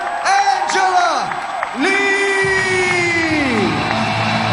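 Arena crowd at a women's mixed martial arts event roars and whoops loudly after a submission win for fighter Angela Lee, with yells and cheering carrying through an announcer's voice.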